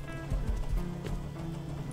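Horse in the survival video game Rust, a few soft clip-clop hoof thuds over a steady low in-game hum, at moderate loudness with no speech.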